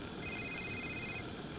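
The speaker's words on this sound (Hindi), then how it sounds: "तभी उसके पास उसके पिता का फोन आया" A phone rings faintly with an incoming call, a single steady electronic ringtone tone over quiet room background.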